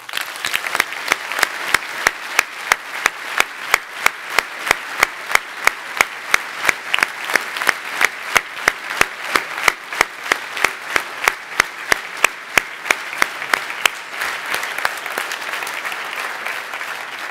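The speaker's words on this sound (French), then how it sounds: "de chaleureux applaudissements." Warm applause at a Belgian cdH party political speech, a steady crowd clapping that carries on for about fourteen seconds and then tapers off, with no voices over it.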